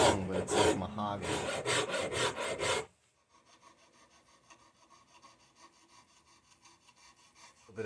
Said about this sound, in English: A bit of final sanding.